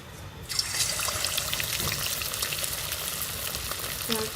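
Chicken 65 pieces fry in hot cooking oil, a close, continuous crackling sizzle that bursts in abruptly and holds steady and fairly loud, with no talking.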